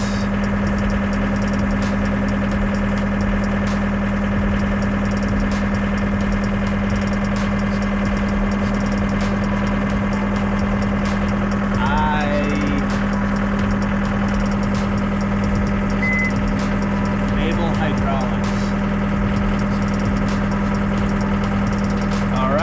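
A skid steer's engine runs in a steady, loud idle at close range, a constant low mechanical drone with slight knocking vibration throughout, with brief faint voices in the background.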